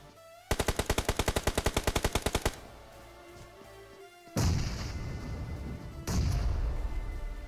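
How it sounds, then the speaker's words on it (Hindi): Grenade blasts in the BGMI battle royale game: after a rapid burst of automatic gunfire, two heavy booming explosions land a couple of seconds apart, loud and close, with no talking. "इसीलिए ग्रेनेड पे ग्रेनेड फेंकता गया"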